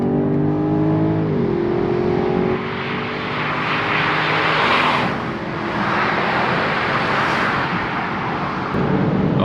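A BMW M760 Li at full throttle on a top speed run, its engine roaring loudly and continuously with a rising pitch, easing briefly once or twice between pulls, heard from inside the car.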